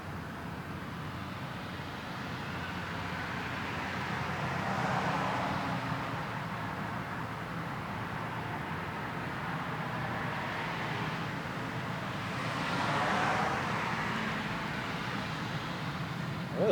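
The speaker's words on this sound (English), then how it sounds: "I really wish the cars would stop." Cars pass by outside a school building near the city, a faint, diffuse traffic rumble swelling and fading in two broad waves, heard at a distance with no talk.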